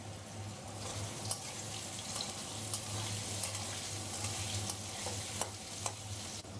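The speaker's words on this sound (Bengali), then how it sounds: "আলুটা এবার ভেজে নেব।" Large diced potato cubes frying in a pan, a continuous soft sizzle with occasional sharp clicks of a spatula against the pan, no voices.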